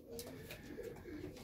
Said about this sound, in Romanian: după ce vom îmbarca porumbei